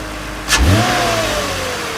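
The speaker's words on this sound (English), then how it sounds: "you can hear a little bit of induction noise when it sucks in from that inlet there" A 2020 Toyota Camry engine revs briefly up close through its stock intake, with a rushing induction sound and a rising whine that settles into a steady hum.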